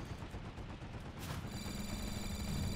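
Gunfire from Planetside 2 rattles in a dense, continuous burst of rapid shots, moderately loud and unbroken throughout, with a brief sharper crack partway through.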